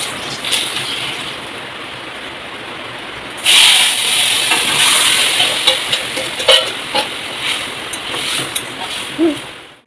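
Nigella seeds and dried chilies sizzle in hot oil in a home kitchen, a steady close hiss that surges suddenly and stays loud, with small pops and crackles spattering through it.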